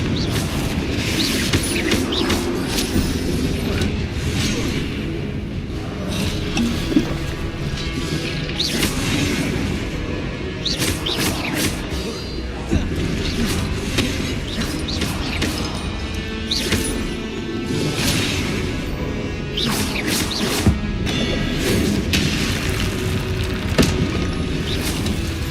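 Repeated Confringo blasting-spell explosions from Hogwarts Legacy, a steady run of booming blasts and crashing impacts with mechanical rattling, loud and continuous, with no talking.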